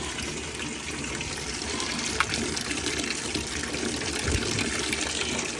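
Washing machine filling with water before a soak cycle, a steady close rush of gushing water with a faint clunk partway through, no talk.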